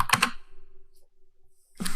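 A command is typed on a computer keyboard into an Nmap scan: a quick burst of close key clicks, a long quiet pause, then another cluster of keystrokes at the end.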